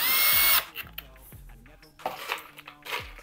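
A power drill drives screws into the bottom of a GTV Axis Pro drawer, with a loud, short whir at the start followed by scattered clicks and light knocks as the drawer is handled nearby.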